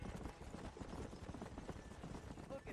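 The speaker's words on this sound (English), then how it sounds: "Look at these here horses." Horses' hooves clip-clopping in Red Dead Redemption 2 near a ranch, a dense faint patter of footfalls over a steady background hum, distant and soft with no speech.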